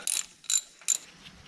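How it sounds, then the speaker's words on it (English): A 3/8 ratchet with no socket clicks in three quick, close, crisp bursts while loosening the rear differential fill plug on a Ford F-150, with no talking. "That takes a 3/8 ratchet with no socket."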